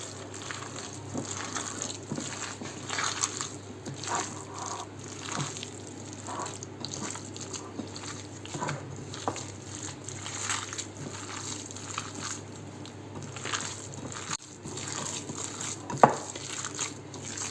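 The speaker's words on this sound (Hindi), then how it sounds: "तो ये जी अंडा भी शामिल कर रहे हैं। तो चलें आप इसको मिक्स करते हैं।" Egg and about half a teaspoon of oil being mixed into a chicken kofta mixture, soft wet squelching and stirring sounds with faint clinks over a steady low background hum, fairly quiet throughout.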